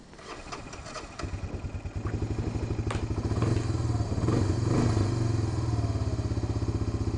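A four-wheeler ATV engine starts and settles into a rhythmic, thumping idle nearby, its steady pulsing putter growing slightly louder, with a few knocks and clatters early on.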